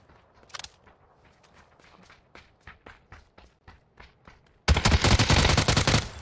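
Gunfire in PUBG: Battlegrounds: a scattered run of sharp single shots and footstep-like taps, then a sudden loud, dense burst of continuous automatic fire at close range for the final stretch.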